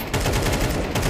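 Rapid gunfire in Counter-Strike, a dense burst of loud, close shots running back to back with almost no gaps, no talk.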